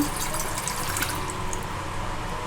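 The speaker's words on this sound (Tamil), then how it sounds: "100 ml தண்ணி ஊற்றிருக்கேன்." Soft trickling of about 100 ml of water being poured into a small pot, a gentle continuous splash with faint clinks, quiet and close.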